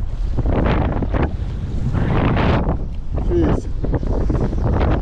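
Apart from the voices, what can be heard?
strong wind at a jetty while surf fishing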